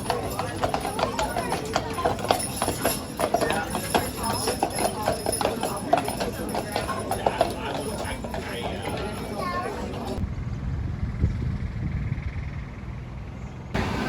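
Horses walk along a trail in Kentucky's Red River Gorge area, their hooves clip-clopping in a steady, close rhythm for about ten seconds before fading into quieter outdoor ambience, with people talking throughout.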